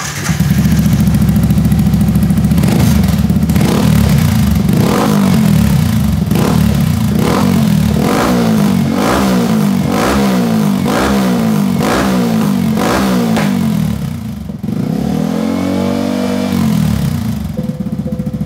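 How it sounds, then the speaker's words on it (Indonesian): A 150cc motorcycle with a short underbelly exhaust revs close by in a steady series of about ten sharp throttle blips, then settles into a rougher idle before a final rev, loud and alone with no talk. "suaranya ciri khas motor 150 cc banget ya"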